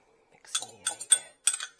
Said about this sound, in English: Mixing the egg.